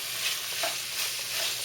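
A seafood soup is stirred in a pot, with a soft continuous hiss of cooking and faint scraping swirls of the spoon close by.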